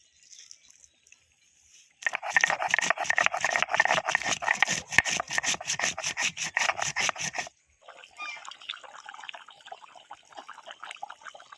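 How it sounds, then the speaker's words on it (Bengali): Black pepper and garam masala being ground by hand on a grinding stone, a steady run of close, rhythmic rasping strokes that stops abruptly, followed by softer scraping and handling sounds. "এবার আমি কচুতে দেওয়ার জন্য গোলমরিচ আর গরম মশলা বেটে নেব"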